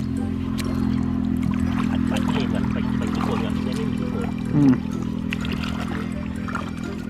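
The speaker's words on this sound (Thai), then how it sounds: "น้ำไหลออก" Water pours and trickles steadily out of a bamboo shrimp trap set in a field channel at dusk, a continuous close flow with a low hum beneath and a brief louder splash partway through.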